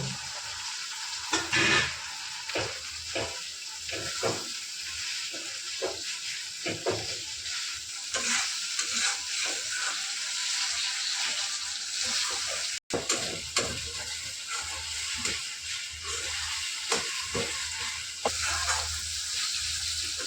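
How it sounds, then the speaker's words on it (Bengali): Tomatoes fry in a pan with ginger and garlic, producing a moderate, steady sizzle broken by repeated rhythmic stirring scrapes and one sharp knock near the middle, with no talking. "টমেটো দিয়ে দিচ্ছি এখন। টমেটোগুলো।"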